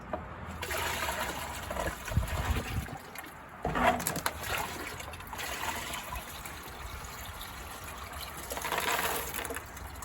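Water poured out of a small outdoor mini pond, a steady trickling and splashing flow with a brief louder gush partway through, close by and with no talking.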